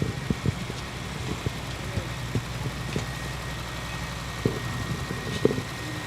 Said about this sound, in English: 1990 John Deere 3155. It's my first tractor.